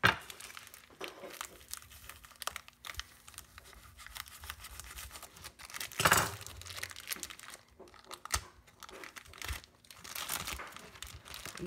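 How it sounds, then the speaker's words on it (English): Plastic packaging being cut and pulled off a frozen five-pound tube of ground beef with a cheap knife, with close, quiet crinkling and scraping, a brief louder tear in the middle, and rustling toward the end. "So first we just remove this from the packaging, and easiest way is to just cut it off."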